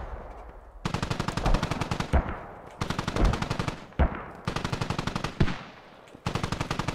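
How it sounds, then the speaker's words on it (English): Rapid machine gun bursts from the Squad military shooter game, several loud sustained volleys separated by short pauses, close and dominant with no talk. "Enemy MG fire is coming in from somewhere."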